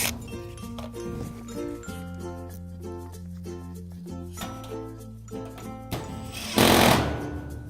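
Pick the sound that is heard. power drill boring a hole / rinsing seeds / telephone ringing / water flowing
power drill boring a hole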